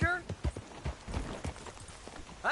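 A horse's hooves clip-clop at an easy walking pace in the Western video game Red Dead Redemption, a steady, fairly quiet series of knocks with a short vocal sound at the start and end.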